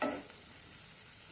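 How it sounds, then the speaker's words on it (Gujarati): Chopped onion and green chillies sizzling in hot oil in a pan, a steady soft crackle that opens with a stirring scrape and stays faint throughout. "ડુંગળી અને મરચાંને થોડા શેકાવા દઈએ।"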